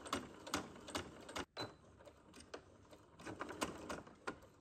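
A sewing machine stitches a strap in short, rapid mechanical bursts with brief pauses, close and fairly quiet, with no talking.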